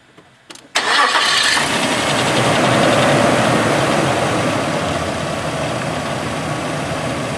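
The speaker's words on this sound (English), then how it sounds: "And then the next thing is to start the engine." A car engine cranks briefly, catches and settles into a steady, loud idle, with a broad even rumble that continues unchanged after the start.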